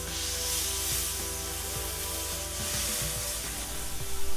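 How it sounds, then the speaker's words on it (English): Meat searing side by side in a hot pan, getting browned on each face: a steady, close, full sizzle that holds evenly throughout, with faint pan knocks underneath and no talking. "we're just searing, getting some color on these sides"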